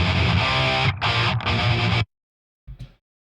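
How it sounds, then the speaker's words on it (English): Distorted thrash metal rhythm guitar through an amp match, unprocessed, plays loud sustained chugs with two short breaks, then stops dead before a brief stab. "So without the processing, it sounds like this."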